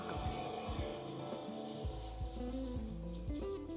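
An iSpring CRO2000 commercial reverse osmosis water filtration system auto-flushes, giving a steady rush of running water with gurgling, faucet-like flow heard close and alone.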